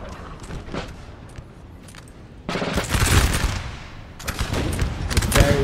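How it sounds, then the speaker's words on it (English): Battle din from Napoleon Total War with French artillery pounding away amid musket fire, a dense crackle of shots that swells louder halfway through into a sustained roar of gunfire. "The French artillery as well pounding away."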